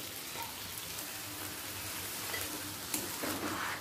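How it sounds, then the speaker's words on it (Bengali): Boiled chickpeas sautéing in spiced oil in a pan over a medium-high gas flame, giving a steady dense sizzle with a slight stirring scrape near the end, close and continuous with no speech. "কাবলি ছোলাটা প্রথমে জল থেকে তুলে কিছুটা কষিয়ে নেব।"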